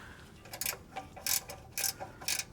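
A ratchet wrench loosens a nut on a GM Ecotec 1.4L engine, giving four short bursts of quick metallic clicking separated by brief pauses, close and fairly quiet, with no talking.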